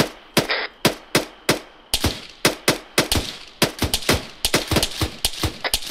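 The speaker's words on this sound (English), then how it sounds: "Auto cannon on my laser." Autocannon fire in Arma 3 booms in a fast, irregular string of loud, sharp blasts, each followed by a short decaying echo, with no voices.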